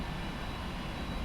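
Jet engines of a Qantas 747-400 on takeoff in a flight simulator give a steady, loud broadband roar that holds constant through the short stretch.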